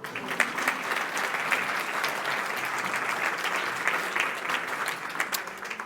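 Audience applause at a conference on the speed of change, a dense, steady wash of many hands clapping at even loudness throughout, with no voices over it.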